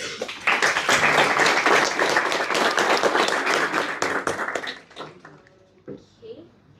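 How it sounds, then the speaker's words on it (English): A round of applause at a hackathon rises quickly and fills the room for several seconds, then thins to scattered claps and fades as a voice begins speaking. "give them a round of applause."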